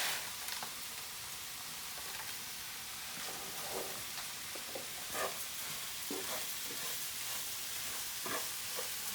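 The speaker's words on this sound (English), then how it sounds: "So we'll add the whole pack of risotto." Arborio rice is stirred into sizzling onions and oil in a hot pan, giving a soft, steady frying hiss with repeated scraping strokes of the spoon, fairly quiet and without speech.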